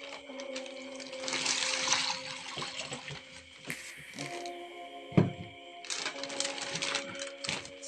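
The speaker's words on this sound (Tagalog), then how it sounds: "So, lagyan po natin ng tubig." Clean rainwater poured into a semi-automatic egg incubator, a steady watery splashing and trickle with faint mechanical humming beneath, broken by a sharp knock partway through before the pouring resumes.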